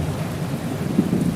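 Thunder from a lightning strike rolls as a steady low rumble, with a rain-like hiss throughout and a slightly louder swell near the end; no voices.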